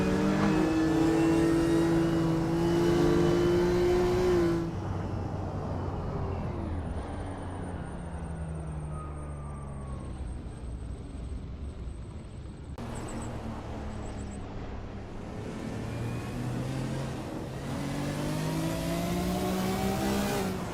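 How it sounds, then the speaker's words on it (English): Race car engine in a Le Mans racing video game, revving hard through Maison Blanche and toward Arnage, its pitch climbing and falling with gear shifts and a steady drone between; loud and close, with no talk. "Octavio 67 is expertly commanding that car through Maison Blanche."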